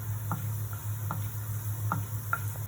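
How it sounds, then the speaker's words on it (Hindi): Medu vada batter frying in a pan until golden gives a low, steady sizzle close by, with a few soft ticks and taps of utensils spaced through it. "इसे थोड़ा गोल्डन तक फ्राई करनी है"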